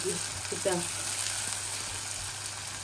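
Onions fry in a pan with a continuous, even sizzle close by, and a voice speaks briefly near the start.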